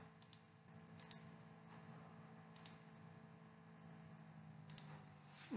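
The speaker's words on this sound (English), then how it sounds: "I'm going to click here on the date file and open this file" Sharp mouse clicks from a computer running equivalent circuit fitting software, a few separate single and double clicks spaced across a quiet room with faint background hum.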